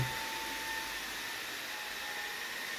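A JIMMY PW11 Pro Max 5-in-1 multifunction floor cleaner runs steadily with a constant broadband whoosh and a thin motor whine, loud and unbroken throughout, with no talking.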